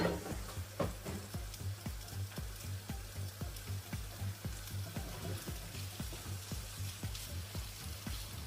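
Marinated Chinese stir fry sizzles in a pan with a little olive oil, a steady close frying hiss broken by regular popping crackles.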